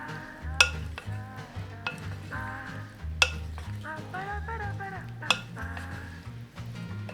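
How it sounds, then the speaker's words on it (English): Chopped tomatoes tossed in salad dressing in a bowl, giving soft wet stirring and sloshing with a few sharp clinks of a utensil against the dish, under background music. "Now I've chopped up our tomatoes, put it in the salad dressing. Give it a quick toss."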